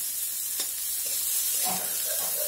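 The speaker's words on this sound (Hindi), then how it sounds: "इसको हम गोल्डन ब्राउन होते तक भूनेंगे थोड़ा ज़्यादा देर तक भूनेंगे हम बीच बीच में चम्मच चलाते रहें ताकि चिपके नहीं" Bitter gourd frying in a pan over low heat, with a steady soft sizzle and a few light scrapes and clinks as a spoon stirs it, close and alone.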